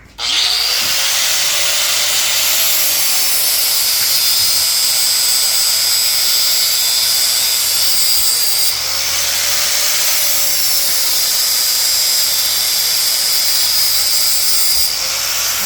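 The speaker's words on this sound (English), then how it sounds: "now he's going to grind to square that back up" An angle grinder grinds steel steadily for the whole stretch, squaring up a forged metal ball being turned into an anvil hardy tool. The whine is loud and close, with a slight dip partway through, and no talking.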